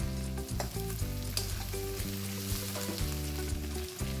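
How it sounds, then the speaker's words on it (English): Green chillies and capsicum cubes fry in a pan with a constant close sizzle, crackling bursts and intermittent stirring clinks, with no voices. "After a minute, add the green chillies. Then add the capsicum cubes."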